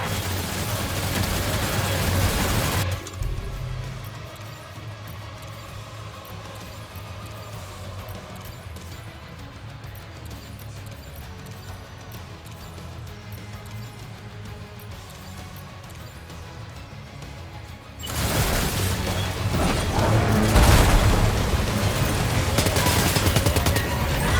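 Gunfire in Death Stranding 2 on PS5, loud bursts of rapid shots at the start and end with a quieter stretch of muffled game ambience in between.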